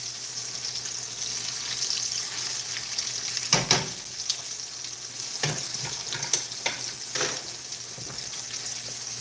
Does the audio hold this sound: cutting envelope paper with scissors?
no